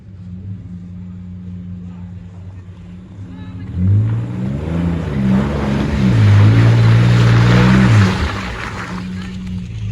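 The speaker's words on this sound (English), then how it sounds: "Got the Jeep on 37s, pulling out the Tundra." A Jeep on 37-inch tires revs its engine hard while pulling a Toyota Tundra out of deep Florida swamp mud. The engine drones low, then climbs and holds loudly before easing, with a voice heard briefly.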